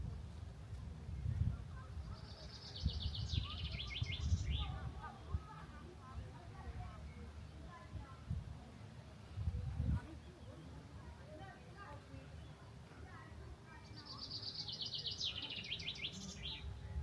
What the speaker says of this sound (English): you can hear the birds better